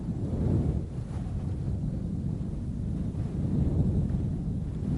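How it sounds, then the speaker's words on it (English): Steady, roaring wind buffets the summit of Jade Mountain at 3,858 meters, a continuous low rumble with gusty swells and no voices. "At the border between heaven and earth, the only sound is the wind."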